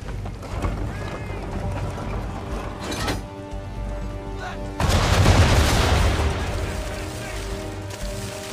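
Ship cannons blast at an enemy ship's bow during an Assassin's Creed III naval battle: a loud, heavy broadside boom erupts midway and rumbles on over steady background game noise and tones.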